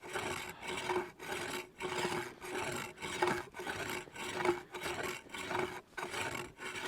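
Steady rhythmic rasping strokes, roughly two per second, come from a wooden bow being smoothed and flattened by hand during outdoor carving. The rasping is close and even, with no talking.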